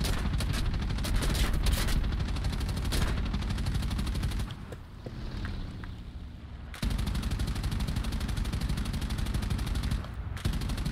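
Aircraft machine guns hammering in rapid continuous bursts in War Thunder, aboard a PBY-5 Catalina, loud and dense with a brief pause midway before firing resumes.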